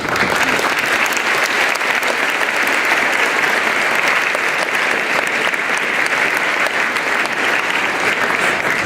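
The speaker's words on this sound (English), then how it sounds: "I'd like to give one more nice round of applause to the members of the Honor Guard" An audience at a school veterans assembly applauds the honor guard and the taps players, with loud, steady, sustained clapping filling the hall throughout.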